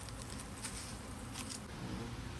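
A honeybee swarm gathered in a trash can gives off a steady, dense buzz with soft patter close by, continuous and without voices.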